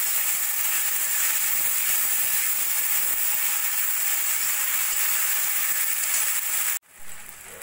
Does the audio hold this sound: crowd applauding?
no